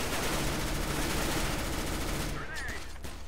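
Rapid pistol fire in CS:GO gameplay, a dense run of sharp shots for over two seconds, then sparser reports with a speaking voice faintly underneath.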